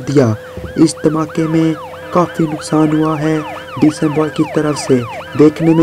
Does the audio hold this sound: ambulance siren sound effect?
yes